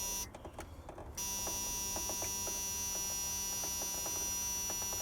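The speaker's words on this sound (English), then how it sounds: "oh, there goes the buzzer." Car warning buzzer sounding during a repair, a faint, steady electronic tone with rapid regular pulses ticking under a constant hum, heard alone without speech.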